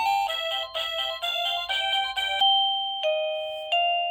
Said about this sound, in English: Select the ringtone you want.